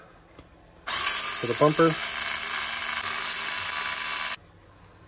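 A power tool whirs steadily for about three and a half seconds, driving out bumper screws on a Team Associated SC10 RC truck, with a short bit of speech over it.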